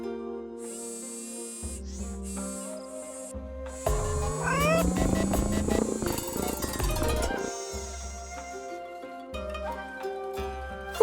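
In the Nancy Drew game Shadow at the Water's Edge, a robotic cat gives a series of electronic meows and chirps over a soft musical backdrop, building to a louder, busier burst of mechanical mewing in the middle before calmer calls return.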